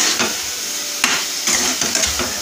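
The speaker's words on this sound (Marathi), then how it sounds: "मसाला तेलामध्ये मी परतून घेत आहे।" Masala sizzling in hot oil for green chicken curry, a soft steady hiss broken by several sharp stirring scrapes and clinks against the pan.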